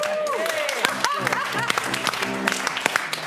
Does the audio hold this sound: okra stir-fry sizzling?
no